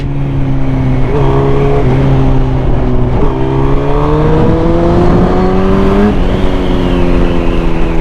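A motorcycle engine revs loudly and close up, but its pitch wavers and sags instead of climbing cleanly, as if it is not responding properly to the throttle.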